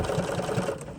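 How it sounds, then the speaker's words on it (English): A sewing machine stitches steadily with white thread, its motor humming close up while the needle thumps out a quick, even rhythm of about three beats per second. "So I'm just going to stitch, and I'm using the white thread"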